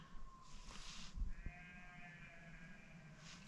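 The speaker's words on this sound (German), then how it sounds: "Man hört die Schafe in der Ferne." Sheep bleat in the distance along the GR 221 trail in Mallorca, a few drawn-out wavering calls over a low steady outdoor rumble.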